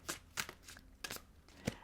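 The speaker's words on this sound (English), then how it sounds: "Let's shuffle the cards" Tarot cards are shuffled in several quick, soft riffling bursts with short pauses between them, close and quiet.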